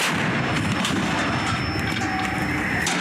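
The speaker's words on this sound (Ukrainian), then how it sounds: "гармата здійснює постріл" A Ukrainian artillery gun on the front line near Bakhmut fires a shot, giving a loud, close blast with heavy rumbling that fills the whole moment, and no talking.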